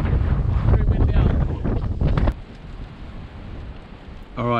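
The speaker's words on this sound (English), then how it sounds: "It's very windy out." Heavy wind buffets the microphone in loud rumbling gusts at a stormy campsite, then drops to a softer steady rush before another gust hits.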